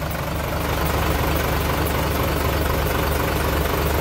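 Steady, loud idle of a Fuso Fighter wing van truck's fully mechanical 6D16 diesel engine, a continuous low rumble heard up close with no talking.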